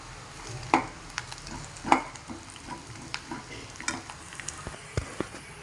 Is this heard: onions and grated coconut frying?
yes